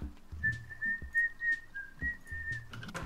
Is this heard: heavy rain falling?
no